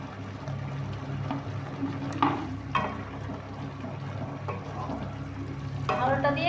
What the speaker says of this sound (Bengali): এখন তার সাথে আলুটা দিয়ে দিচ্ছি।